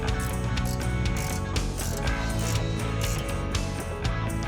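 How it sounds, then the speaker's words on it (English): Clattering metallic ratcheting and mechanical rattling while a winch is installed onto the winch plate of a 2014 Jeep Wrangler JK Unlimited, continuous and close with dense repeated clicks. "Carefully install the winch on the winch plate."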